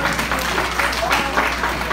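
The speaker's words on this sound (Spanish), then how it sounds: "¿Dónde está el aplauso para este grandioso jinete," A crowd applauds a horse rider at a village fiesta, steady clapping that runs throughout under a voice talking over the top.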